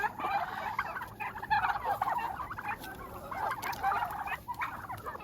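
A silver phoenix hen clucks and calls repeatedly in a busy free-range flock, with other chickens and turkeys murmuring and gobbling nearby in the background.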